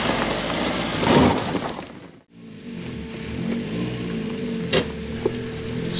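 A Mark IV off-road vehicle climbs a rocky, rutted Lake District lane, its engine droning and rising in steady revs while tyres crunch and rattle over stones. A brief drop in the noise breaks the middle.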